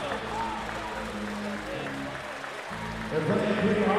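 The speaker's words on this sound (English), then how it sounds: "nice round of applause by the faithful still here at the Wilson Logistics Arena" Crowd applause from the faithful fans at the Wilson Logistics Arena during an arena football game, a steady wash of clapping that swells louder near the end, with a commentator talking over it.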